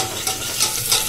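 Cumin, coriander and onion fry in a pan for khichdi, a brief, close sizzle with a light scrape of stirring.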